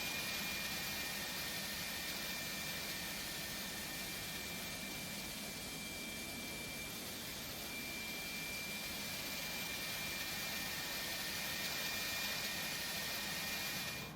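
Simulated Airbus A300-600F jet engines in X-Plane 11 roar steadily, a dense broadband whoosh with a high whine that holds loud and constant throughout, with no voices.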